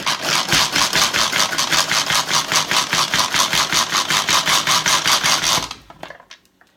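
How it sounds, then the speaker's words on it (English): A manual pull-cord food processor chops avocado for guacamole, giving a fast rhythmic whirring of the spinning blades in steady loud pulses for over five seconds before stopping abruptly. "Cut them in a couple pieces and throw them in our manual food processor"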